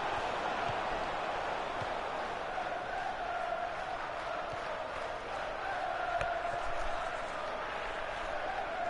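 Tottenham Spurs supporters fill a football stadium with a steady, dense roar of crowd noise that holds constant throughout, rising slightly in places, with faint commentary beneath.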